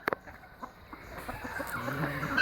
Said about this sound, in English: Noah, come feed the birds, buddy.